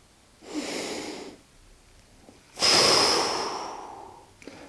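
Breathing during a yoga stretch for cyclists and runners, a soft close inhale followed by a longer, louder, airy exhale, with no talking.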